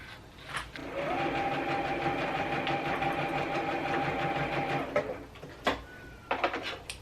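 A sewing machine stitching quilt pieces runs steadily for about four seconds with an even mechanical whir, then stops, followed by a few faint clicks and handling taps, fairly quiet and without talk.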